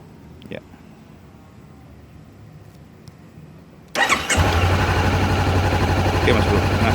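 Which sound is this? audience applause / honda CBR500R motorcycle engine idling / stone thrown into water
honda CBR500R motorcycle engine idling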